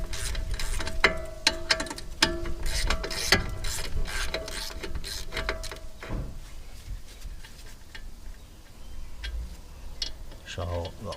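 A ratchet fitted with a deep T60 socket turns a bolt during a BMW 1 Series front wheel bearing replacement. Rapid, close, steady clicking fills the first six seconds, then thins to faint scattered ticks.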